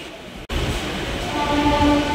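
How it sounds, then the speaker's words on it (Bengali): A Tarakeswar-line local train running near Sheoraphuli, with a steady loud rumble of wheels and carriage noise throughout, broken by a brief dropout near the start and joined by faint whistling tones toward the end. "এবার এখান থেকে ট্রেন চলে যাবে তারকেশ্বর লাইনে"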